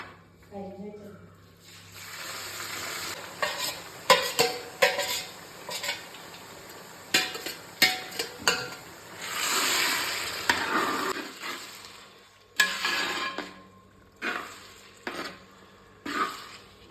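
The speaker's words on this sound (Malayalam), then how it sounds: "ഈ കടുകെല്ലാം പൊട്ടിക്കഴിയുമ്പോൾ നമുക്ക് അരച്ചു വെച്ച സോറി അടിച്ചു വെച്ച ഇഞ്ചി നമുക്ക് ഇടാം" Crushed ginger dropped into hot oil after mustard seeds pop for a homemade pickle, a frying sizzle with stirring scrapes and clinks of a spoon against the pan, a voice talking over it at intervals.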